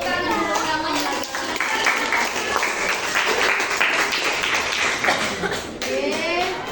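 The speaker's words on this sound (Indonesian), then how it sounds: "Tepuk tangan untuk kamu lagi" A biology class gives a round of applause, mixed clapping and taps close by with children's voices and chatter running over it.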